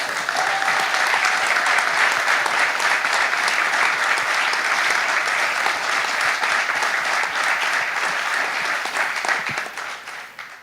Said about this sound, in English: put their hands together for the biggest hand clap you can for our president